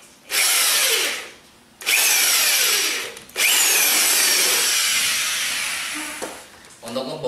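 Power drill boring into wood with a wood drill bit, sounding in three loud bursts of whirring and grinding separated by brief pauses, close by.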